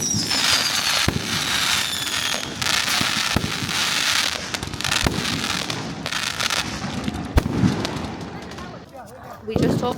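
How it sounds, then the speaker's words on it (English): Fireworks are set off at sunset in Fujian, China, with dense crackling bursts and sharp bangs going almost nonstop, a few whistling rockets rising early, and voices in the crowd underneath. "people are gathering to light some fireworks."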